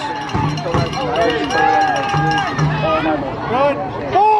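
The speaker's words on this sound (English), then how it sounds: "the Mill City Eagles sideline trying to get the crowd into it, the defense chants" Crowd at a semi-pro football championship game between the Valley Generals and Mill City Eagles chanting defense from the sideline, a loud rhythmic group chant with voices layered over one another.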